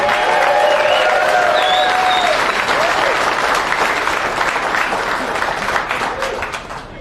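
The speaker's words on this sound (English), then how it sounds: "Keep the applause going" Audience applause with scattered cheers and whistles at an awards ceremony, welcoming a man who arrives on stage in an ice cream truck; loud, dense clapping sustained throughout, easing slightly at the end.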